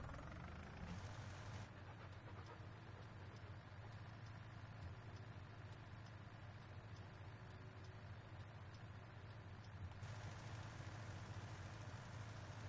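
A Kubota tractor engine runs in a steady, low, unbroken drone, with a regular light ticking above it throughout, heard from close by with no talk.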